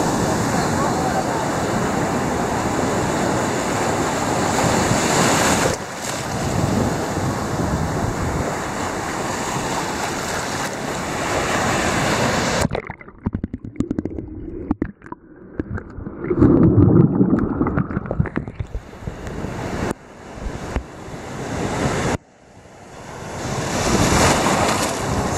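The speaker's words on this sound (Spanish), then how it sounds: "Sensacional lugar para venir a disfrutar las olas." Caribbean sea waves roll onto Playa Delfines beach in Cancún, a loud continuous surf roar with heavy wind buffeting the microphone, broken by brief dropouts and splashy bursts near the water.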